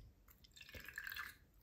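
Water dripping from a Sailor fountain pen as it is flushed clean, a few soft, quiet drips and light splashy patter over a near-silent background, ending in a brief louder tap.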